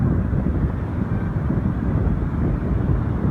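Strong wind buffets the microphone in a steady, low, rumbling roar that never lets up.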